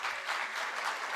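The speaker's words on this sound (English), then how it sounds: "Please welcome him with a round of claps" Steady audience applause at the World Toilet Summit 2025 as a speaker is welcomed onto the stage, a continuous wash of many hands clapping at moderate volume.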